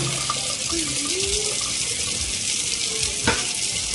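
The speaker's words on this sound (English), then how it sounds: "I'm going to be rinsing my kiwa now, and the instruction says to use a fine strainer to rinse it well" Steady running water from a kitchen tap pours through a fine strainer as quinoa is rinsed, a constant close splashing hiss with a brief clink near the end.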